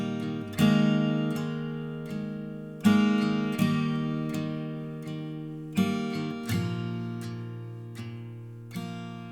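An acoustic guitar strummed with a 0.88 mm pick. Chords strike crisply and ring out, with several separate attacks spaced over about nine seconds and no voice.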